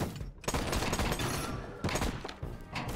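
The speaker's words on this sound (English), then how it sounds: "they have a machine gun turret thing" A machine gun turret fires in the action game Bartlow's Dread Machine: a dense, continuous barrage of rapid gunfire with heavy thuds and blasts, loud and close throughout.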